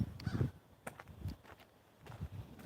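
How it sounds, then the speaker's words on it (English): A crow caws a few times at a distance on a farm, with short harsh calls separated by quiet gaps and faint outdoor background noise. "I hear the crow."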